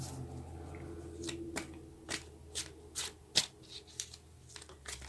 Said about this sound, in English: So let's take a few clarifying cards